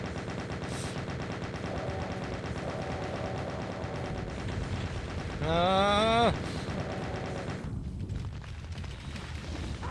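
Rapid chaingun fire from an enemy chaingunner in the game Doom rattles in quick bursts over game noise on a large hell map, with one louder, brighter burst midway.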